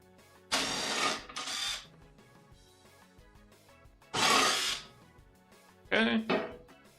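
A power drill bores holes while building a shop blower: three separate close, loud whirring bursts, the first two back to back, then a longer one and a short final burst, with quiet gaps between.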